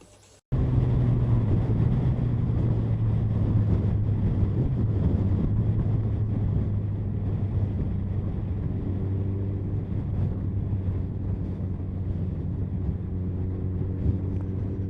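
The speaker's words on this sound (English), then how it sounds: "Definitely a bit windier than I thought it would be today" Steady, heavy wind roar buffets the microphone while a Suzuki Hayabusa motorcycle is ridden on a windy day behind a fitted screen, with a low engine drone underneath and no talking.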